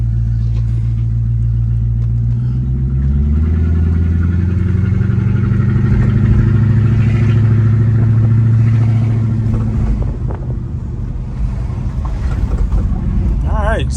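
A 1984 Mercedes-Benz 500SEC Euro drives along with a steady, loud low engine rumble throughout and a slight shift in tone partway, heard from inside the car.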